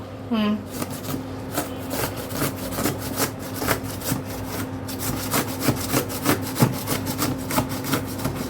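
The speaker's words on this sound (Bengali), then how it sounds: "নেচে নেচে আলু কাটতেছে গাইজ।" A knife cuts through raw potatoes, worked by a child cutting potatoes for the first time in a home kitchen, giving steady, rhythmic scraping and sawing strokes up close, with a brief voice near the start.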